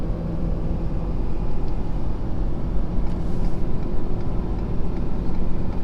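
A diesel pickup truck towing a heavy load climbs a hill at about 2,900 RPM, its engine a steady low rumbling drone heard from inside the cab, moderately loud and even throughout, with no talking.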